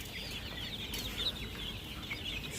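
Layer pullet chickens in cages fitted with nipple drinkers cluck and murmur softly, several birds at moderate distance, with faint rustling and no speech.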